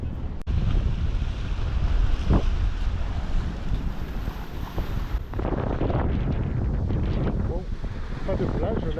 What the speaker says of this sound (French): Heureusement un peu de vent